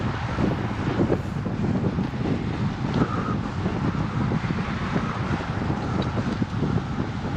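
Strong headwind roars steadily across the microphone while cycling on a road at speed, a continuous loud buffeting rush with low rumble throughout and no talk.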